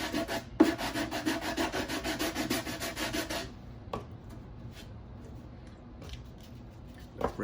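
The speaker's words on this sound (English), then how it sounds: "we start out by sanding everything and getting everything flush" Repeated rhythmic rubbing strokes of sandpaper on a 1/16 scale model sleeper body, steady and close for about three seconds, then stopping, leaving quiet handling noises and a few faint taps.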